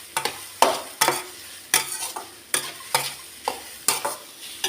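Carrot halwa is stirred in ghee in a pan over a low flame, a spoon scraping in regular strokes about every half second, each with a soft sizzle, close and alone.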